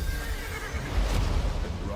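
Summoned horse in the Highguard video game trailer gives a whinny, its neigh rising above music and other game sounds, with a voice talking over it.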